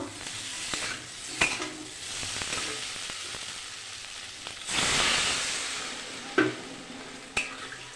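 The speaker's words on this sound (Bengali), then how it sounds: "কষানো হয়ে গেছে, জল দিয়ে দেব।" Water poured into a pan of fried spiced potato and eggplant curry, the hot oil bursting into a loud hissing sizzle midway, with a few utensil taps and scrapes before and after, close by.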